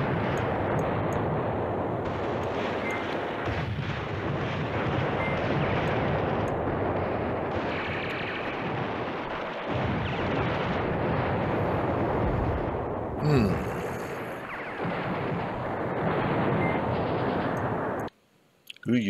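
Artillery bombardment in the Command Ops 2 war game, a dense continuous rumble of shelling and distant blasts rolling on steadily, with a sudden drop to near silence near the end.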